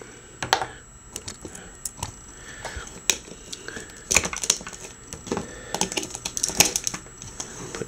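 Plastic connector pieces of a DC Universe Collect-n-Connect Kilowog action figure snap together in a string of sharp, irregular clicks, close and fairly quiet with no talking.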